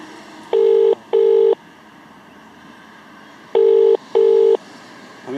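Ringback tone of an outgoing phone call: two double-pulse rings, each pair of short electronic tones followed by a long quiet pause over faint background hiss.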